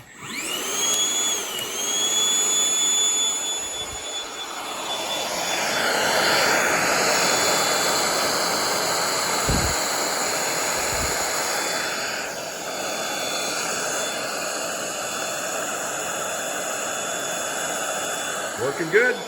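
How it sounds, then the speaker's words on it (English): A loud, steady whooshing suction roar with a high whine from dust extraction on a Festool 1010 router runs throughout, with a few low thumps partway through and no talking. "Listen to the suction that I got going here."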